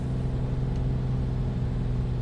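A powerful aircraft engine in a flight simulator drones steadily and loudly during takeoff, a constant low roar with no pauses or talking.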